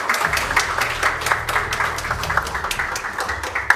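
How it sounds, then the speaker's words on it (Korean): Warm applause from a seated audience at a Korean information security day awards ceremony, a dense steady patter of clapping held at an even level throughout. "여러분 따뜻한 박수로 축하해 주시기 바랍니다."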